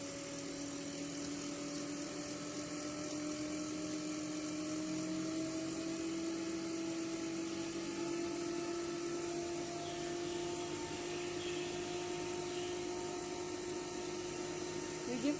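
A DC compound generator motor fed 220 volts runs at rated speed, giving a steady close whine with faint speech underneath.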